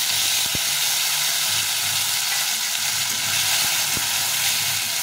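Chopped tomatoes sizzle loudly in hot oil with dried red chillies, whole cumin and bay leaves, a steady close hiss with a couple of faint clicks from the pan.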